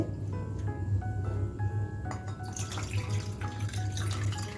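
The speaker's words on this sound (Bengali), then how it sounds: "ভালো করে সাবুটা ধুয়ে নিতে হবে" Sago pearls are washed in water, with a steady trickle and splash of running water and small dripping, swishing sounds nearby at a low level.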